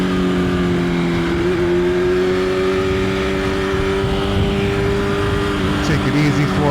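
A motorcycle engine hums steadily while riding through New York City traffic, a sustained near tone that rises slightly in pitch toward the end over constant wind and road rumble.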